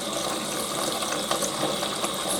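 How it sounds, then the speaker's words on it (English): Tap water runs steadily while fresh basil, lemon balm and mint are washed, a close, continuous rushing splash with slight fluctuations as the leaves move under the stream. "I just want to give them a good wash"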